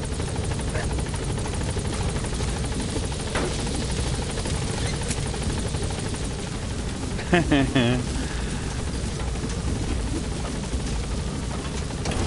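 A helicopter in the video game Metal Gear Solid V The Phantom Pain whirs with a constant loud rotor drone throughout, holding steady and close apart from one brief mechanical warble partway through.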